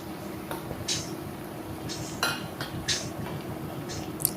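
Egg fried rice being stirred in a pan, heard as a few quiet, irregular metallic scrapes and clinks of a spoon against the pan over a low background.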